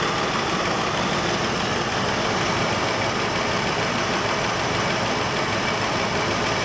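Abandoned Mustang Cobra, rescued after 27 years, idling close up with its spark plug wire reconnected, a steady, continuous engine drone throughout and no talk.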